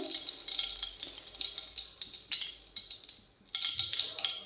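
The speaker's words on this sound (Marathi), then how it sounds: "सर्वात पहिले आपण यामध्ये मोहरी टाकून घेऊया तेल छान गरम झालेलं आहे" Mustard seeds dropped into hot oil while making a dry brinjal dish crackle and sizzle close by in a dense, uneven hiss, dropping briefly to near quiet before the sputtering resumes.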